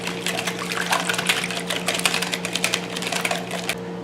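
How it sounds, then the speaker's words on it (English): Wet ingredients with egg yolk being beaten together in a bowl for pizza pie dough, a rapid, steady clicking whisk rhythm close to the microphone over a constant low hum, with no talking. "Beat your wet ingredients together."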